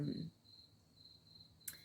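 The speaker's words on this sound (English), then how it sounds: "Sounds like something screaming. It's these frogs, man." Frogs call at night in a steady, thin high-pitched trill that pulses faintly and evenly, with a brief low voiced noise at the start and a short sharp click near the end.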